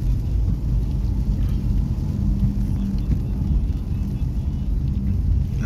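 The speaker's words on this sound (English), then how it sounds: "there's the traffic here going across the bridge" Road traffic crossing a bridge between Eccles and Diamond, a continuous low rumble of passing vehicles with steady broadband noise, heard from close by without distinct individual passes.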